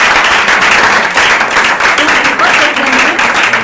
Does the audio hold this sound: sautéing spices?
no